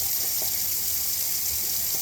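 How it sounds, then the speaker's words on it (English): Water runs steadily from an open faucet on a well-pressure household system as air is purged from the line, a continuous faint hiss and spatter with no talk. "It's important to go around to each faucet and purge all the air out. Just open them up, let them flow."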